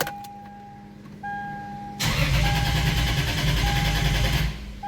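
A turbocharged Lexus IS300 cranks and fires, its engine catching with a sudden loud roar and settling into a strong close idle after a couple of seconds of quiet whine.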